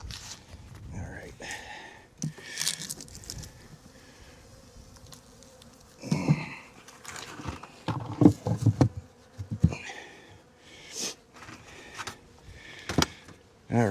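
Honey bees buzzing around their hive colonies during an inspection while fondant is set out, a steady insect drone with scattered close passes, light handling knocks and rustling, and no talk.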